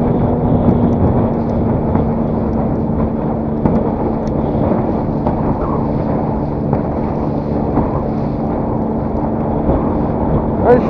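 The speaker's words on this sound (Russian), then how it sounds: "А еще видишь, ветер волну гонит." Wind pushes waves across open water, a continuous rough rush and splash with gusty wind buffeting the microphone, steady and fairly loud throughout.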